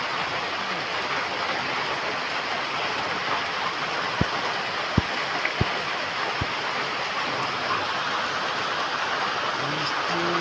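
Heavy rain pours down in a steady, dense roar that stays even throughout, with a few faint knocks in the middle and no voices.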